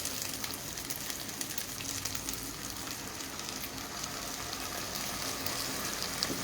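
Paneer chilli sizzling hard in a pan over full flame with soy sauce added, a steady dense crackle and hiss held at an even level throughout, close and continuous with no talking.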